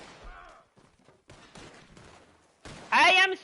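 Explosives going off in the Red Dead Online video game, a loud burst of blasts near the end after quieter scattered sounds and a brief voice.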